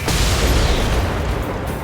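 A loud explosion in the Shangri-La Frontier anime: a dense, roaring boom that holds nearly steady and fades only slightly.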